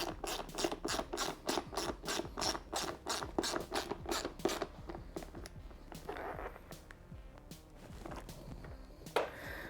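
Ratchet wrench with a 10mm socket loosening seat bolts on a Honda GROM (MSX125) motorcycle, a fast run of close, loud clicking strokes followed by slower, scattered clicks and handling noises.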